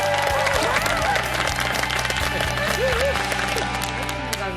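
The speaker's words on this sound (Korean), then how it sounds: "여러분 박수로" A studio audience on a Korean variety show breaks into applause for a former UN ambassador, the clapping steady and close over a bed of music.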